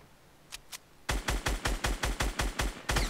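Gunfire in a battle royale video game: two faint shots, then a loud, rapid string of about ten evenly spaced bursts fired close up.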